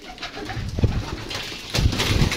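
Pigeons of a prized home breed coo in soft, low bursts, a couple of short throaty calls heard close by with faint background noise between them.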